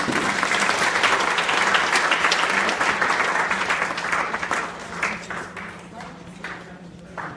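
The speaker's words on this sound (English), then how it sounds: "give her a applause for being brave" Sustained applause from an audience at a wind power presentation at a green school event in Oklahoma, loud and dense at first, then thinning and fading toward the end, with a voice speaking over it.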